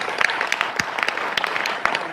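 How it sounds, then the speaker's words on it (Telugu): Audience applause at a welcome event for a zonal manager: a short burst of scattered hand clapping from a modest crowd, fairly close and steady throughout. "అందరూ కూడా ఒకసారి చప్పట్లు కొడదాం"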